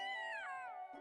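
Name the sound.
goblin meowing like a cat, video game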